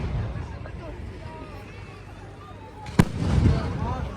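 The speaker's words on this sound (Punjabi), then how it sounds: "ਹੁਣ ਪਟਾਕਾ ਚੱਲੂਗਾ" A single sharp firecracker bang bursts out partway through, loud and close, over a background of crowd chatter and outdoor noise at a street celebration of India's World Cup win in Italy.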